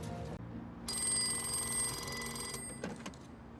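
A payphone rings in a television drama, a bright electronic trill that repeats in short bursts over quiet background sound from the show, fairly faint.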